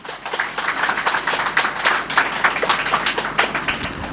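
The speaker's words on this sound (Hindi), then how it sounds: "एक बार थोड़े एक्टिव हो जाएं, थोड़े ताली बजाएं।" An audience at a Buddha Purnima gathering claps steadily, dense and close applause lasting throughout with no voices over it.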